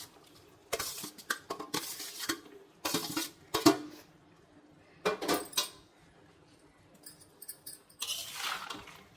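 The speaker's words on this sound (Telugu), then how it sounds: "ఆ రైస్ని ఇందులో వేసుకొని కలుపుకోండి." Cooked rice being stirred into a tamarind mixture to make pulihora temple prasadam, with intermittent scraping and clattering bursts of a utensil against a pot, spread over the span with short pauses and no talk.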